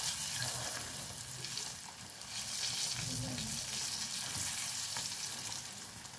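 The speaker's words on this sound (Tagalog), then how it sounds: "sinalang na natin yung talong" Eggplant sizzles and crackles steadily in hot oil, a continuous bright frying hiss with faint low clatter from the pan.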